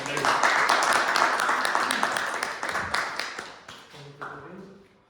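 Toastmasters public speaking club audience applauding to welcome a speaker, dense steady clapping that thins out and trails off into scattered claps near the end.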